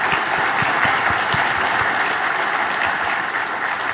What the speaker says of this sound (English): Let's give our award winners a round of applause.